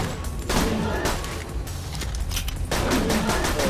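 Gunfire in the video game Borderlands 2, rapid bursts of shots and booms in dense volleys, loud and continuous across the stretch with a short lull in the middle, no talk over it.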